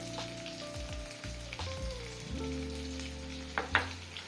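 Onions with turmeric frying in a pan for a quick potato curry, a soft steady sizzle running throughout with a few stirring clinks near the end, close and moderately quiet, no talking.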